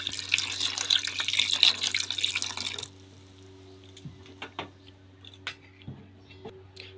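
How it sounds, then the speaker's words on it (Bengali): Cold water running from a tap over boiled eggs in a bowl, a close, steady splashing stream for about three seconds, then stopping, leaving a low hum with scattered drips and small clinks. "ঠান্ডা জল দিয়ে দেব যাতে খুশুগুলো ভালো করে ছেড়ে যায়"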